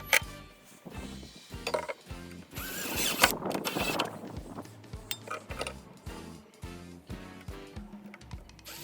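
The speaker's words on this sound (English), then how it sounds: "I used the screws that came with the legs to screw through the bottom of the box into the panels on the sides" A drill drives the screws supplied with hairpin legs through the bottom of a wooden box into the side and back panels of a bedside stand, giving close, repeated whirring and ratcheting bursts with clicks and knocks between them.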